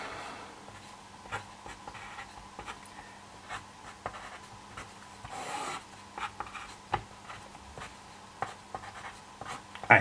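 Pen or pencil scratching across paper while a circuit diagram of an astable multivibrator is drawn by hand, a close, quick series of short strokes and taps with faint background hum and no talking.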